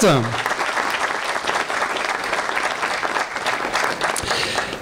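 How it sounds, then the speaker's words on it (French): Audience applause at a New Year's civic greeting ceremony, a dense burst of clapping from a crowd that stays steady throughout, with a voice heard briefly at the start. "Je vois le maire de Ronques, qu'on peut applaudir également, Rodrigue Desmet"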